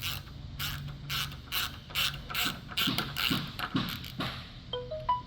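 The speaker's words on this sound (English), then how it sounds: "grab your Allen wrench and a 7/16 socket, and we're just going to tighten these down." Ratcheting clicks as an anchor light's bolts are tightened down with a 7/16 socket, a quick run of close, small metallic clicks with faint creaks and taps.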